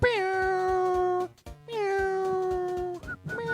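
A person imitates a cat with two long drawn-out meows, each starting high and sliding down, followed by a shorter third one, loud and close against a rhythmic background beat.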